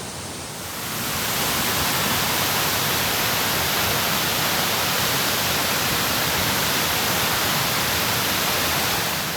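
Roaring waterfall at Amicalola Falls on the Appalachian Trail, a loud, steady broadband rush that swells in within the first second and then holds constant alone throughout.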